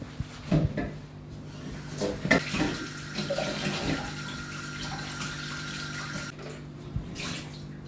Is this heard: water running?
yes